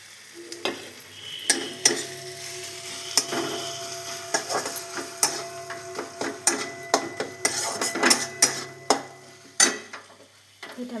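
Tomato and ginger paste frying in a pan, giving a steady sizzle broken by frequent sharp scrapes and taps of a spatula stirring against the metal, close and fairly quiet, with no talking.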